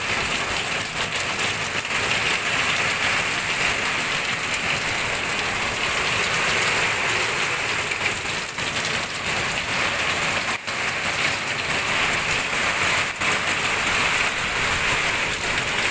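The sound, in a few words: heavy rain pouring during typhoon Ulysses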